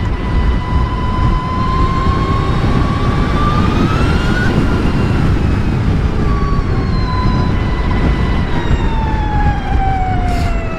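An Energica Ego+ RS electric motorcycle carries a rising and falling motor whine over heavy, steady wind and road rush while riding, the tone sweeping up then gliding down, loud throughout.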